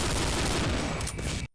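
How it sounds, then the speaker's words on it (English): Loud, continuous gunfire from a Counter-Strike: Condition Zero mission inside a facility, rapid shots blending into a dense fusillade that cuts off abruptly. "Plenty of solid shooting occurs inside this neat-looking facility"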